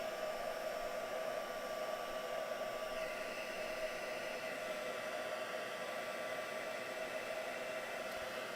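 A hair dryer blowing steadily to dry a mixed media canvas coated with gel medium, a constant close whooshing hiss with a faint motor whine, unbroken throughout and without talk.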